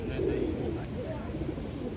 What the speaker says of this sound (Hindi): बहुत ही उम्दा कबूतर बैठा है आकर